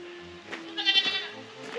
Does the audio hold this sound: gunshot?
no